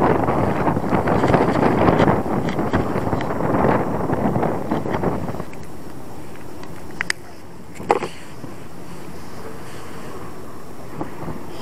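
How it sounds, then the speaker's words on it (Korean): Strong wind gusts roar across the microphone during shore lure fishing for sea bass and octopus, loud and broadband for the first five seconds, then easing to a steady lower rush with a couple of brief knocks. "아 바람"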